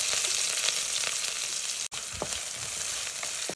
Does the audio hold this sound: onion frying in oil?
yes